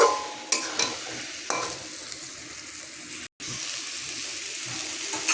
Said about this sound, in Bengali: আর একটু কষাতে হবে।